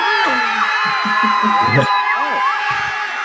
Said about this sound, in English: Oh, the crowd is going wild.